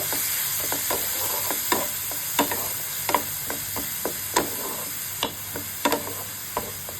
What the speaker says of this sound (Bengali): এগুলো ভালোভাবে কষিয়ে নেব